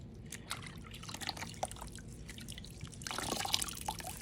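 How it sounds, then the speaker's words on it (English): A knitted yarn skein squished by hand in a basin of hot water, making close wet squelches, drips and trickles, with no voices. "I'm gonna start with this guy in hot water. And I'll smush him around here"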